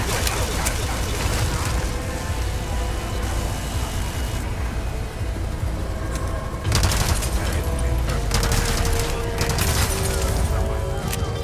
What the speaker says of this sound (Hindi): मैं जान रहा हूं अंधाधुन गोली चला रहा है